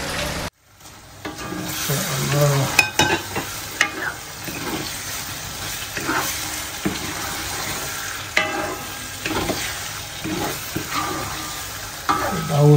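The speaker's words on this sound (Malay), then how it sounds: "So ni dah pecah minyak, kita dah boleh masukkan udang kita." Shrimp fry in hot oil for chili sambal, crackling and sizzling steadily while a utensil scrapes and stirs in repeated strokes, with a brief spoken word early on.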